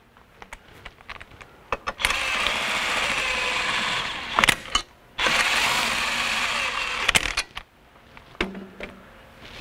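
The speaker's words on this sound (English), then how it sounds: "snugging the rotor down to the hub so it stays centered" A power tool snugs the bolts holding a brake rotor down onto the hub during a Wilwood brake install on a C5 Corvette: two loud, sustained whirring runs of a couple of seconds each, set between clicks and clanks of handling.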